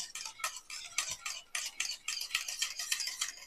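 Strained sour yogurt being whisked in a bowl for mishti doi, a quick, close series of light rhythmic taps and scrapes repeating steadily with no talk.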